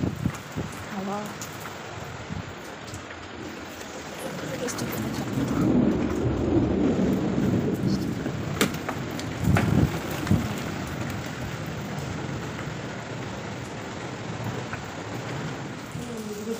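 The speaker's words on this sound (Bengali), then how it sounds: "বৃষ্টি হচ্ছে," Rain falling with wind and water running off surfaces, a steady wash of noise that swells in the middle, with voices talking faintly over it.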